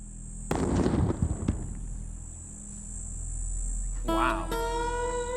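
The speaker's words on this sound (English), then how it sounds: "in this test range in Arizona, we have the explosive equivalent of TNT" A sharp blast from an explosive charge equal in force to TNT, on a desert test range in Arizona. It lands as a sudden loud crack, followed by crackling debris and a fading rumble, and a brief burst of noise comes near the end.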